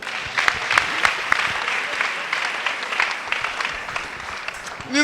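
A church congregation claps for Jesus at a Tuesday celebration service, steady dense clapping filling the room with crowd noise throughout.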